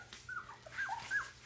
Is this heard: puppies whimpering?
yes